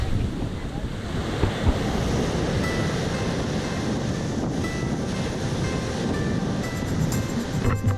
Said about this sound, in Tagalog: Ang lakas ng alon, parang wild na wild yung ano eh.